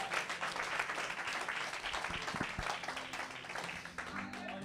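Congregation applauding during a church sermon, a thick continuous roar of clapping and voices lasting throughout, with a few low thumps partway through.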